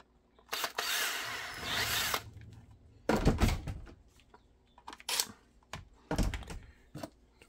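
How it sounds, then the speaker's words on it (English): Power drill boring a hole while mounting an accessory bracket on QLS blocking, heard in three separate bursts: one long steady whine, then two shorter runs with clicks and handling noise between them, close and loud. "Drill this hole."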